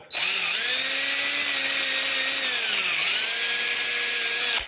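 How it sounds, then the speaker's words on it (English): A power drill cleaning out a golf club hosel whines loudly and steadily up close, its pitch sagging briefly near the middle before the motor stops. "I did use my drill"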